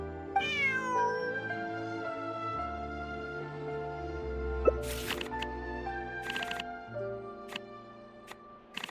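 A cat meows once near the start, a clear rising and falling call heard close up, followed by soft clicks and thumps against a steady tonal background.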